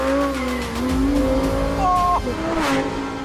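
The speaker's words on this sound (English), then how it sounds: "But the Lambo's clever aero system is equally impressive when you get to the end of a straight and arrive at a corner." Lamborghini Huracán Performante engine droning loud and steady as the car runs into a corner, its pitch shifting with a brief downshift blip and rising rev near the end.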